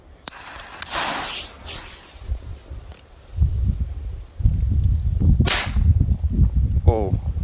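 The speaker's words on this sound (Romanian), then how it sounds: "hai să vedem un PP1 cum bubuie." A PP1 MagicTime firecracker goes off in an open field: a few sharp cracks and snaps at the start, then rustling and wind-like noise, with a faint whistling tone near the end.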